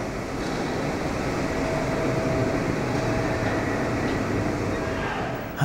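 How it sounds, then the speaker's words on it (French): A railway locomotive gives a steady, loud, dense rumble and mechanical hum that holds constant throughout, with a faint rising tone near the start. "Ah, c'est impressionnant de voir une locomotive comme ça."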